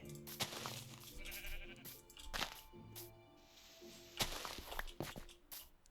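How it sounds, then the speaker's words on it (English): Sheep in the Minecraft video game bleat in a few short calls out in open terrain, with footstep crunches between them and no voices. "Oh, look, some sheep."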